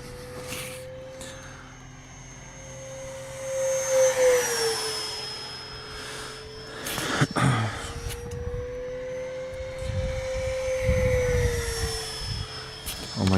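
An FMS Super Scorpion 70mm EDF model jet screams past at full throttle with a steady high-pitched ducted-fan whine that rises and falls as it passes, with occasional wind buffeting and faint voices in the background.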